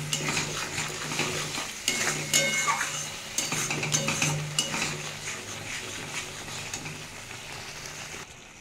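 Green jackfruit being stirred and sautéed with sugar and salt in a pan on a gas stove, a spoon scraping and clinking against the metal at irregular intervals over a soft, steady sizzle.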